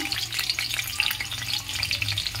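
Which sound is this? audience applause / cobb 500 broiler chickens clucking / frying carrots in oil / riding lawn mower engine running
frying carrots in oil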